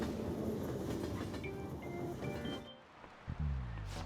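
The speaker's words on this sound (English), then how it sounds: "Oh, looks like the train's coming." In Persona 5 Royal, a train pulls into a station with a dense, loud rumble of rolling wheels that cuts off sharply near the end, followed by a brief low tone.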